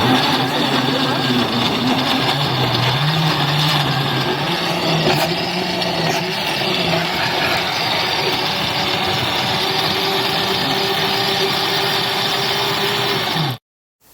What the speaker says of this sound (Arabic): هنا حطينا الطماطم وحطينا فيها شويه ميه في الخلاط.